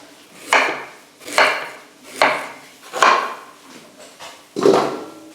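Knife cutting through hard raw quince fruit on a board, five distinct firm chopping knocks in a steady, unhurried rhythm, close and fairly loud with nothing else around.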